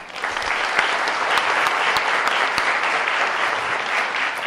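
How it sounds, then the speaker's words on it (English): An audience at an all-candidates election forum in West Kelowna applauds the organizers and volunteers, a sustained, full-room burst of clapping that holds steady and close without any talking over it. "let's please give all the organizers and volunteers a round of applause"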